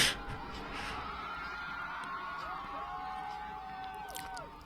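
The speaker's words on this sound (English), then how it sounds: "People cheering that." Crowd cheering and whooping at a stage show, heard faintly as if played back through a speaker, a distant roar with bright tonal swoops over it.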